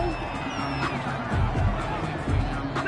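Home crowd at a GFL football game, Antlers at Dreadnaughts, a dense roar of cheering and babble filling the stadium, swelling in a few louder bursts, steady and moderately loud throughout with no clear voice on top.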